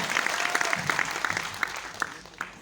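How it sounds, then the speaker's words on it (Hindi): An audience at a recognition event gives loud applause for Ankit Kushwaha, many hands clapping with some sharp individual claps standing out, gradually thinning toward the end. "एक बार जोरदार तालियां मिस्टर अंकित कुशवाहा जी के लिए होना चाहिए।"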